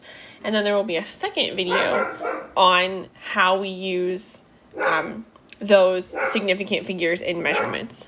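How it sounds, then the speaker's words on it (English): A pet dog barks a few short times in the background while a person speaks steadily throughout, giving an indoor chemistry lesson on measuring with rulers and cylinders. "Pardon my dog."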